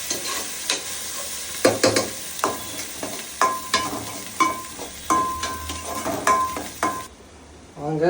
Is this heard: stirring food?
yes